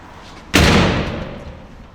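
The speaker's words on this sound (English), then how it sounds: "Shut that door." A door slams shut once in a vehicle workshop, a single sharp loud bang with a short echoing decay inside the building.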